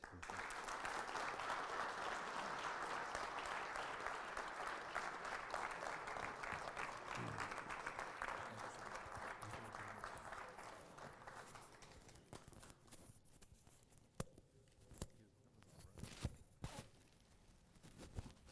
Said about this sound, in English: Once again, a huge round of applause for our esteemed keynote speaker.